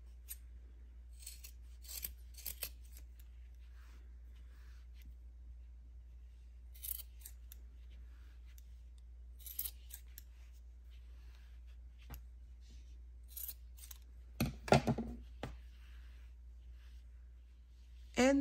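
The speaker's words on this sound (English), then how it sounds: "Now I am going to cut all the yarn." Scissors snip through yarn being trimmed for a handmade crochet tassel, a few quiet scattered cuts over a steady low hum, with one louder burst of cutting near the end.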